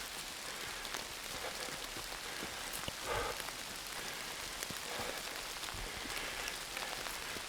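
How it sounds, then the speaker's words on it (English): Steady rain patters on surfaces all around on a wooded trail, a constant dense hiss with occasional louder drops and a brief rustle partway through. "Rain is definitely coming down harder"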